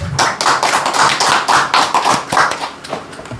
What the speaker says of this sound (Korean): 박수 한번 쳐주실까요?